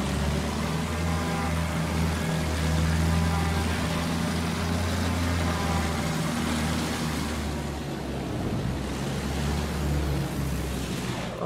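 Bristol fighter plane engine in the Battlefield 1 video game, a steady loud droning hum that holds throughout with a rich low rumble and faint shifts in pitch.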